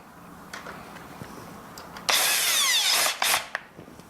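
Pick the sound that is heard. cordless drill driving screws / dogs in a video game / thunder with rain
cordless drill driving screws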